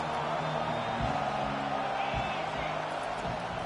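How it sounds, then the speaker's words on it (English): Football stadium crowd roaring during a defensive stand, a dense sustained wall of noise with a few sharper swells, heard under a commentator's voice. "Listen to this crowd just shaking the girders of this place, trying to help their defense."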